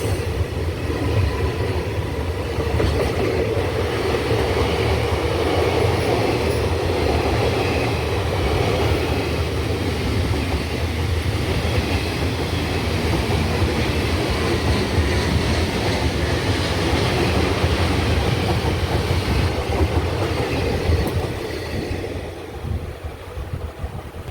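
Passenger train running on an Indian rail line toward Kochuveli station, formed from a Bengaluru–Nagercoil express rake; a steady, loud rumble of wheels and carriage noise with wind buffeting, continuous throughout, no talk.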